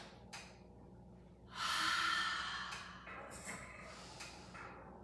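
Audible breaths during a slow Pilates reformer exercise: a faint puff, then a long loud exhale, followed by softer breaths in a quiet room.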